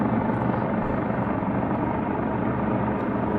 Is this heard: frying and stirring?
no